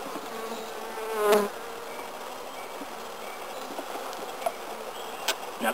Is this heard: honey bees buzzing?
yes